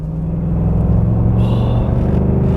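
Ford Mustang Bullitt heard from inside the cabin while cornering, a loud steady low engine rumble and drone with no speech over it.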